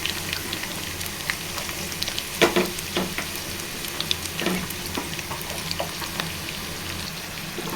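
Onion pieces sizzle in hot oil in a pan for an egg curry, a steady close frying hiss broken by scattered pops and crackles, with no talking.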